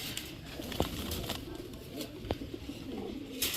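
White pigeons kept in pairs coo softly in a low, wavering murmur, with a few sharp taps and faint rustles scattered through; the sound is quiet and somewhat distant, with no speech.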